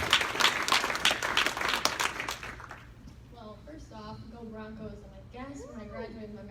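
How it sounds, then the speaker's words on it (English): An audience at an awards event for a 2019 class of young honorees gives Gabriella a warm round of applause, loud and dense for about three seconds before it fades and a single voice begins speaking. "Please, round of applause for Gabriella."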